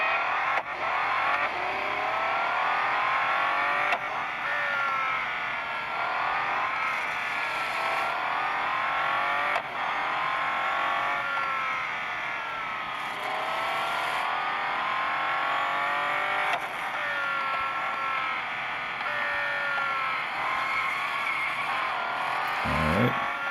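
A Bugatti Divo in a racing video game roars through an autocross run, its loud engine climbing and falling in repeated rev sweeps and gear changes across the whole stretch, with no talking.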